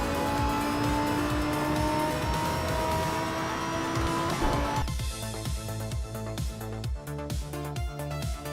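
Engines of race cars in a racing video game roar with steady tonal whine and tire noise, then give way to a rhythmic, pulsing pattern as the cars continue, loud and close with no talk.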